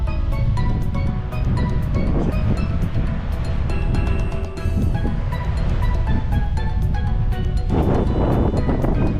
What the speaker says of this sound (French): Beaucoup de vent là.